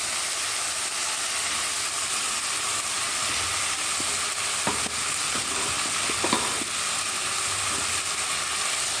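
Ginger, garlic, green chili and tomato paste sizzle and fry steadily in a hot pan for a curry to serve with dal puri, a broad continuous hiss with faint scraping stirs, close and unbroken, no talking.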